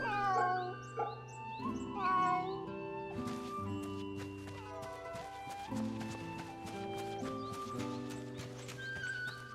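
Cat meowing in the Fate/Samurai Remnant video game, a few short meows heard over game music and clip-clopping hoof sounds.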